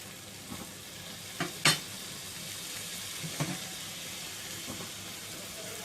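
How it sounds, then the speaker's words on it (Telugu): Egg biryani masala with yogurt sizzling in a pan while being stirred, a steady close frying hiss broken by a few louder scraping stirs. "రుచికి సరిపడినంత ఉప్పు వేసుకొని కలుపుతూ ఇది కొంచెం దగ్గరగా అయ్యేంత వరకు ఉడికించుకోవాలి"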